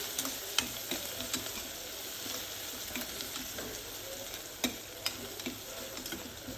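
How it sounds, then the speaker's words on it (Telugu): Chopped onion fries in hot oil with cumin and mustard seeds for a cluster bean curry, giving a constant close sizzle with occasional sharp pops and spoon clicks. "ఆనియన్ ఇక్కడ మనకి ఎర్రగా ఫ్రై అవ్వాల్సిన అవసరం లేదు, జస్ట్ 1 నిమిషం పాటు ఫ్రై చేసుకుంటే సరిపోతుంది."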